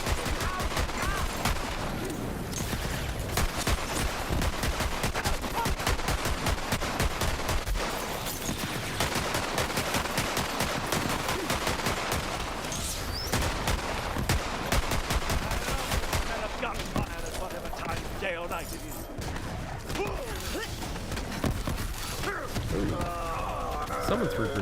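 Dense, continuous gunfire from a Borderlands 3 battle, rapid automatic bursts and crashing impacts layered without pause, loud and close throughout, with a player's voice speaking over the fighting.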